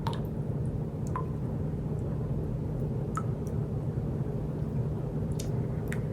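Broth and crushed tomatoes are stirred in a pot for stuffed cabbage rolls, giving soft wet squishes and light drips over a low steady background, close and without talk.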